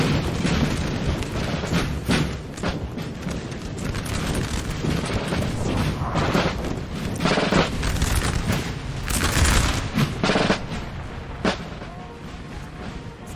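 Massed artillery booms and musket volleys roll through a Napoleon Total War battle of the French invasion of Russia, with heavy, overlapping blasts and crackling fusillades sustained throughout and peaking in several loud bursts.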